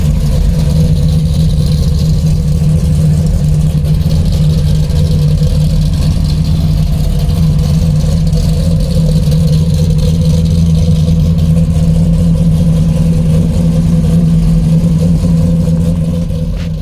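A 1966 Pontiac GTO Pro Street runs steadily at a car show, its loud, deep engine rumbling continuously close by with a sustained throaty drone and no talk.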